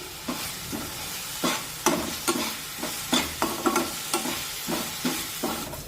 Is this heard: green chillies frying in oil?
yes